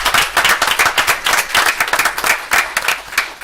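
An audience applauds the city recreation department at a public meeting in Florence, South Carolina, a brisk burst of many hands clapping close by, steady and dense throughout.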